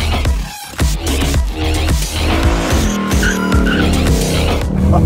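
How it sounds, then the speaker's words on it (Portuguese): A Ford Mustang Mach 1 V8 skidding on a race track with locked wheels, loud and close, with a sustained tire squeal over the roaring engine throughout. "Ó, ele trava a roda"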